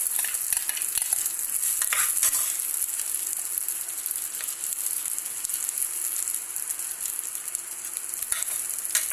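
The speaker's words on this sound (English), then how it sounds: "Let us fry for 2 minutes" Soaked rice being stir-fried in a pan with ghee for paneer pulao, a steady close sizzle and scraping stir running throughout with no talk.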